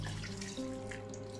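Water pours steadily into a cooking pot while making chicken light soup with cabbage, a soft continuous trickle over a faint low hum, with no talking.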